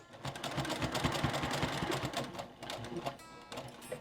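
A sewing machine runs in a continuous rapid stitching burr, stitching around a bag strap, with a brief slowdown partway through before it picks up again, close and fairly quiet.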